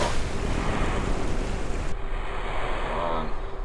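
A capsule in Kerbal Space Program splashing down into water, a loud steady wash of surf and rushing wind that thins abruptly partway through, with no talking.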